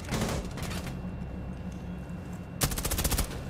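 Automatic gunfire in Rainbow Six Siege, fired through a wall: a loud burst of rapid shots, a lull of quieter game ambience, then a second sharp burst near the end.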